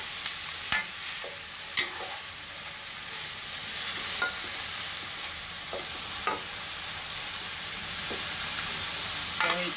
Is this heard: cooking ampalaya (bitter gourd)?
yes